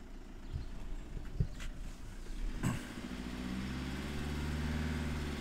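A Renault Mégane engine with a suspected head gasket coolant leak revs up, its mid-pitched drone rising and then holding steady and fairly loud near the car, with a few clattering knocks before it.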